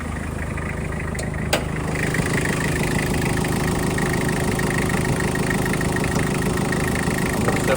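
A 1998 Toyota Hilux turbo diesel with a 5-speed manual idles steadily up close, a constant even rumble with a single faint click early on and no voices.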